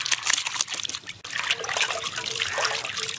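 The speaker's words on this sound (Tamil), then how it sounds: "கொழுப்பு நல்லா கழுவி எடுத்துக்கலாங்க." Water from a tap runs and splashes steadily while raw mutton fat is rinsed by hand, with irregular sloshing bursts from handling throughout and a brief dip near the middle, close and fairly loud, with no talk.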